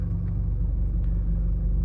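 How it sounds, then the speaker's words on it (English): A 2022 Acura ILX A-Spec with an aftermarket exhaust idles with the air conditioning running, producing a loud, steady, low tractor-like drone that stays constant throughout. "With the AC on, we kind of have this tractor sound going on."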